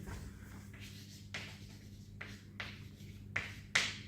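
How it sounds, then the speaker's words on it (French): Chalk or marker scratches across a board during a math exercise in short strokes, about six bursts, quiet and close, with a low steady hum underneath. "Donc je vais écrire là."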